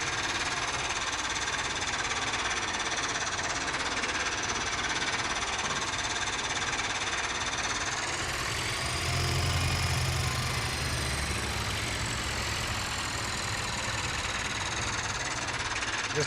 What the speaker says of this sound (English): This tractor, I love this tractor other than the sound.